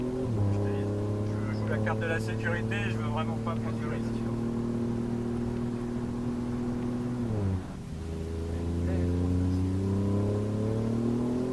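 A 510 hp rear-drive Alfa Romeo Giulia Quadrifoglio engine holds a loud, close, rising drone, drops sharply as revs fall, then climbs again on re-acceleration while someone talks over it.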